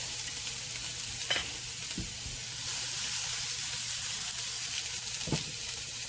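Garlic sizzles steadily in hot oil for egg fried rice, a dense, even frying hiss broken by a few sharp scrapes of a utensil stirring the pan, with no voices.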